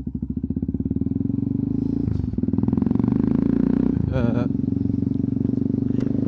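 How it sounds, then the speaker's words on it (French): A 660cc single-cylinder motorcycle slowing under engine braking, its close, loud, pulsing thump dropping in pace, with brief clatter of gear changes partway through. "c'est que j'ai ralenti la moto presque exclusivement avec le frein moteur."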